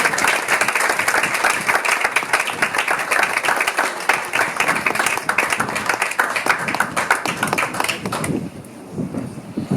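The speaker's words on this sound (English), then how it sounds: "Thank you, round of applause." A conference audience at a leadership dialogue gives a loud round of applause, with crisp individual claps audible within the dense clatter, tapering to scattered clapping near the end.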